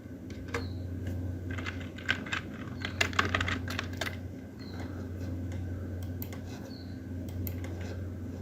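Someone types on a computer keyboard while setting up network addresses in Cisco Packet Tracer, a quiet, close run of irregular key clicks with short bursts and pauses against low room hum.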